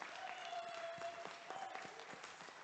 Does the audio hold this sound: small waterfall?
no